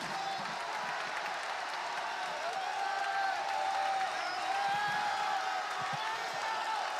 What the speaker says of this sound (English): And a jacked up crowd at County Forum.